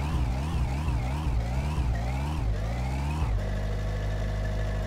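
Car engine running in My Summer Car, an overheated motor revving and wavering in pitch for about three seconds, then settling into a steady, loud drone with no talk.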